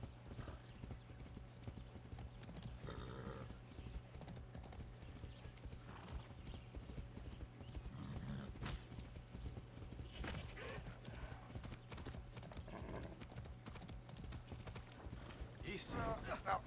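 Horse hooves clip-clop steadily throughout, with an occasional whinny, mixed into a busy game or outdoor soundscape while people talk over it.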